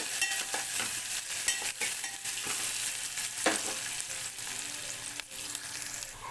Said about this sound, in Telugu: ముందుగా కట్ చేసి పెట్టుకున్న ఉల్లిగడ్డ పచ్చిమిర్చి ముక్కలు అయితే వేసుకుందాం ఇలా ఉల్లిగడ్డ పచ్చిమిర్చి అయితే కొంచెం వేగనివ్వాలి